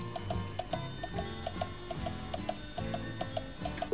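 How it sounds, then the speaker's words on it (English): Eight clocks in a kitchen tick together in a steady, overlapping rhythm, the crisp ticks close and moderately loud against a soft background hum. "8 clocks in Granny Dryden's kitchen."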